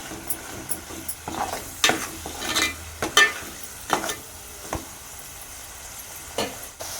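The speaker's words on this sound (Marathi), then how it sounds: "आता मसाला चांगला परतून घ्यायचा" Ground masala paste with bay leaves frying in oil in a pan for mutton rassa, with a quiet sizzle under repeated scraping strokes of a spatula in an uneven rhythm.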